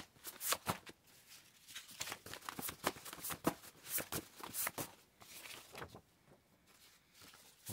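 Shuffling a big deck of tarot cards: a fast run of crisp riffling bursts and soft slaps that swell and fade, close and alone with no talk.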